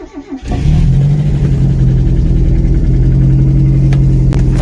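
A Mazda Miata engine, brought back on a resurrected project car, cranks briefly, catches and settles into a loud, steady running note close by.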